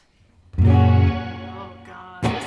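Electric guitar run through a reverb pedal on a home-built pedalboard: one loud chord blooms and rings out in a long, washy, cave-like tail, with a fresh pick attack near the end and no talking.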